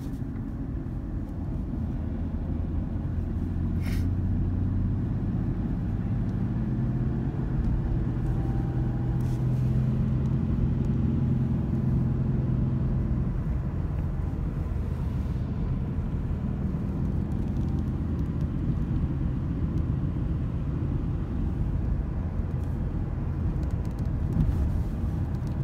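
Steady engine drone and road rumble from a 2008 Ford Ranger 2WD pickup with a 3.0 liter V6 and five-speed manual, driving after a downshift at around 30 to 40 mph, constant and close.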